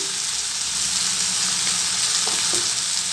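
Turmeric, chili powder, garam masala and coriander powder fry in a pan for paneer masala, giving a steady, loud sizzle with a few soft stirring clicks and no talking.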